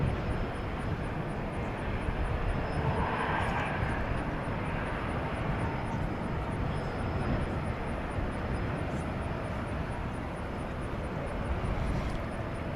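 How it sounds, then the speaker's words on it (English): An Airbus A320 airliner at DFW Airport at night produces a loud, continuous engine roar that fills the whole stretch, with a voice talking faintly over it. "American 2374 to San Antonio, Texas, an Airbus A320."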